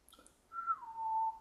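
A person whistling alone, a clear tone that glides down from high to a lower held note, fairly quiet and close.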